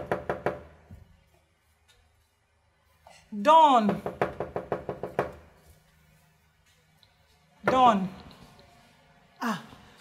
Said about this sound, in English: This one when you dey knock, nobody dey answer you so.